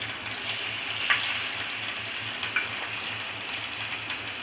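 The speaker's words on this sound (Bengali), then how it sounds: "এবারে আমি এতে দিয়ে দিচ্ছি টমেটো কুচি" Chopped tomato going into a pan of spices and dried chilli powder frying in oil; a close, continuous sizzle and hiss with a couple of light clinks, no voices.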